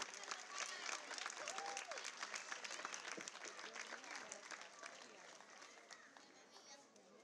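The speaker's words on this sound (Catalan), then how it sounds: "un fort aplaudiment per ella" A festival crowd applauds during the Festa Major proclamation in Móra la Nova, a faint, distant wash of clapping with scattered voices and chatter mixed in, tapering gradually.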